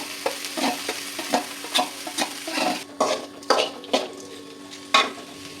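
Beans being stirred into cooked lentils in a pot, with a spoon scraping and clinking in irregular strokes over a soft sizzle. The sound is close and there is no talking.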